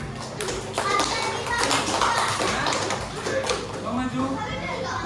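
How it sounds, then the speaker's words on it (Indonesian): Classroom applause for a student who stepped forward, a dense steady patter of many hands clapping throughout, with children's voices mixed in under it. "Diberi tepuk tangan dulu nah."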